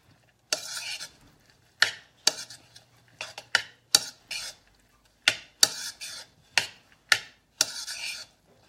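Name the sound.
stirring cheeseburger casserole mixture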